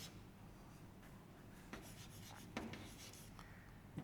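Chalk or marker scratches across a board during a physics lesson, faint rubbing strokes with a few sharper taps, quiet and close, no talk.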